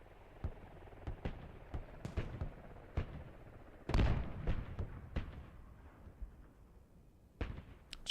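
Warrior armored vehicles firing in a military shooter battle, with a Challenger tank nearby. Sharp cannon-like reports come at irregular intervals, some near and loud, others fainter, with one heavy blast mid-way.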